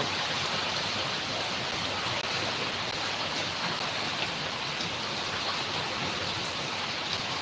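Heavy rain and strong wind pour down together in a dense, steady hiss that holds at one level throughout, with no voices.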